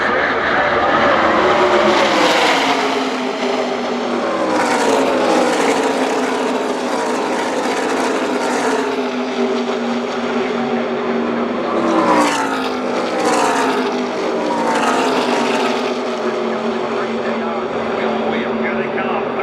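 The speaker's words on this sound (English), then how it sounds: "Here they come through the banking of turns 1 and 2." Stock race cars roar past in a loud pack at Talladega Superspeedway, heard from the stands, with engine pitch rising and falling as cars sweep by in repeated waves and a race announcer talking over the noise.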